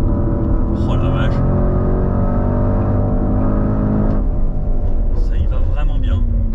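A Porsche Cayenne engine revs hard and climbs in pitch as it accelerates around a coned track, loud and close throughout, with voices talking over it.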